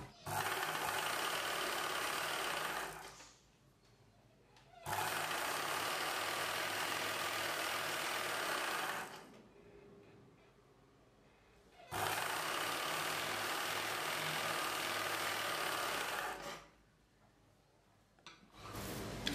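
A sewing machine stitches a blouse lining in three loud, steady bursts of a few seconds each, separated by short quiet pauses.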